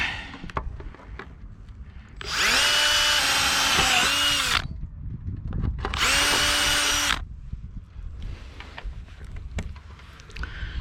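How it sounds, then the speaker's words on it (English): Cordless power drill boring out a cheek block on a sailboat mast while at anchor, two loud sustained whining bursts of a few seconds each, close up, with faint tapping and wind between them. "Drill that one out."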